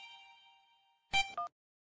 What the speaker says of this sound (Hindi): ये हन्नू का फोन क्यों आ